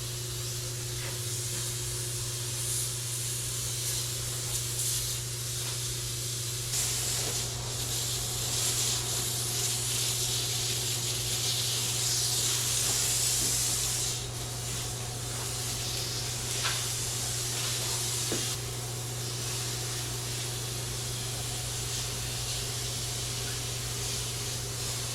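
Powder coat sprayed onto cleaned Honda Civic car parts, a steady airy hiss lasting throughout over a constant low hum, with a few faint clicks and no talking.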